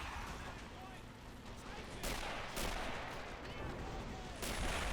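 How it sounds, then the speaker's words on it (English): Artillery fire in the war game Men of War Assault Squad 2, with dense rumbling blasts and a few sharper booms over a continuous battle din, distant and fairly faint, with talk over the top. "Russian artillery definitely doing its job, though, at trying to hold the Germans back."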